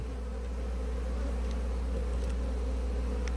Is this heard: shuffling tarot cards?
no